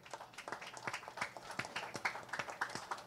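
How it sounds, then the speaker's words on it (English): Applause from an audience at a book launch, a steady patter of many hands clapping at moderate distance, with brief overlapping voices. "Please, a big round of applause."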